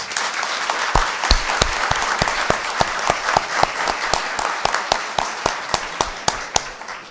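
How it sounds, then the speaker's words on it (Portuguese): Applause fills a city council chamber in Caieiras during an ordinary session, with a cluster of people clapping steadily in a fairly regular beat and sharp individual claps standing out near the front. "uma salva de palmas para todos vocês"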